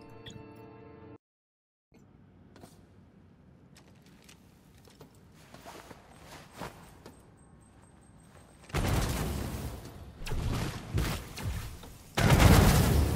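System Shock combat: quiet mechanical clicks and ticks give way to bursts of loud gunfire and explosions, the last burst loudest.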